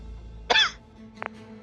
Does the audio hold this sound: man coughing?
yes